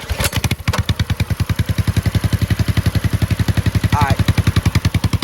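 A cold motorcycle engine fires up and runs fast and steady as the throttle is worked, its thumping pulses loud and close, with a few spoken words over the start.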